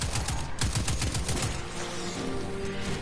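Rapid gunfire in the video game Destiny 2, a fast burst of repeated shots rattling in quick rhythm, followed by a busier stretch of mixed game effects, all at a fairly low level.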